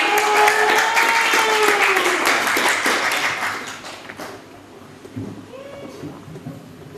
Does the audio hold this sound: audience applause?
yes